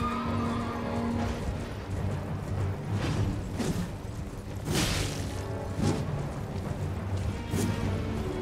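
A horse neighs in Elden Ring, a shrill whinny followed by clattering hooves and impact crashes from combat, all layered under continuous game music.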